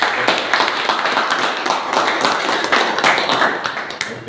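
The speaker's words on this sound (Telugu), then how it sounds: "ఒకసారి వెస్టేజ్ ఫ్యామిలీ అందరికీ బిగ్ క్లాప్ ప్లస్." A crowd at an association meeting gives a long round of applause, a dense, loud wash of many hands clapping close and continuous throughout.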